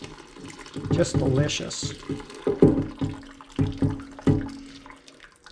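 Homemade chicken bone broth is poured out of an Instant Pot, sloshing and splashing in uneven bursts close by, under a person talking.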